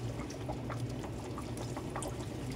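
Freshly washed watercress is drained of water in a kitchen, a steady pouring and dripping splash that runs continuously and close by.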